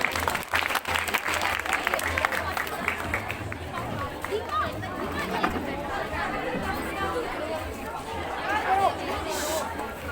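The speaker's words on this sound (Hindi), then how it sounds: "जोरदार तालियों से स्वागत कीजिए।" A crowd at a school event bursts into loud applause to welcome the chief education officer, sharp clapping at first that settles into a busy, continuous patter mixed with chatter.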